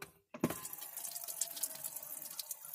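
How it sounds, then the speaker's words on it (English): A tap opens and water runs steadily into a stainless steel sink inside a small camper van, a soft, continuous, close splashing hiss with no voices. "And here's how you turn on the water here, right there."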